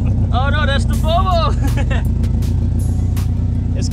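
A Honda Civic EG with an aftermarket Gretti exhaust idles with a constant deep rumble close by, while people talk over the engine.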